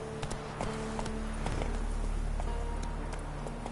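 Hooves of Roach, Geralt's horse in the video game The Witcher, clip-clop at a trot in a steady rhythm over a low, rumbling game soundscape, fairly close and moderately loud.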